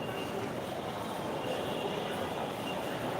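A metro train at Karwan Bazar station in Dhaka, heard from the platform as a steady, dense rumble and rush of rolling wagons that stays level throughout.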